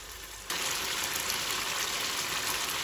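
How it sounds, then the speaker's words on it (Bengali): Onion paste frying in a pan for a chicken roast, a loud dense sizzle that bursts in suddenly and holds steady and close throughout, no talk. "এখন আমি 1-2 মিনিট পেঁয়াজ বাটাটা কষায় নিব।"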